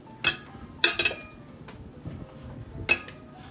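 A spoon clinks against a bowl while stirring vegan soy curl tuna mixed with mayo: a few sharp, separate clinks spaced over a few seconds above a faint room hum.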